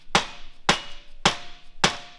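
Four sharp hammer blows on metal during custom suspension work on an AMC Pacer, evenly spaced about half a second apart, loud and close, each ringing briefly before the next strike.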